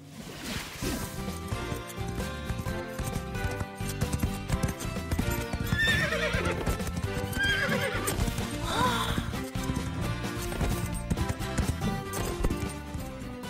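Cartoon horses being ridden at a ranch: rapid, continuous clip-clop of hooves close by, with bright whinnies and neighs breaking through midway over a busy musical backdrop.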